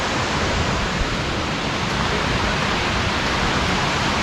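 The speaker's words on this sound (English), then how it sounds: "Apparently there's a waterfall out there" A waterfall out along a forest trail roars as a dense, constant broadband rush, steady and loud without breaks, with no voices over it.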